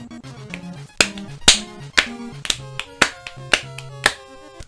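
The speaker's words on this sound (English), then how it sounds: "All the spiders clap along to the music." Spiders in the video game Undertale clap along to a bouncy tune, sharp rhythmic claps landing on the beats over the looping game music, loud and close, with no talking.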